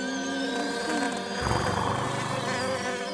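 A cartoon housefly buzzes with a thin, whining drone that rises and dips in pitch as it moves around, close and continuous, with a low thud partway through.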